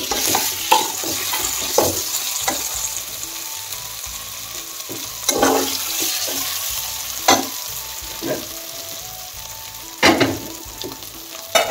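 Onion, fish, amora and potatoes sizzle steadily in a frying pan while a utensil stirs and scrapes at irregular intervals, close and continuous with no talking.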